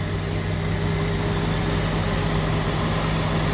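A 1998 Jeep Cherokee engine idles while warming up after a throttle body replacement, giving a steady low rumble with a constant hum. It stays even and continuous, with no talk over it.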